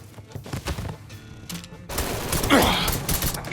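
Bursts of automatic gunfire from a Mafia 3 shootout, rapid close shots growing louder and denser in the second half.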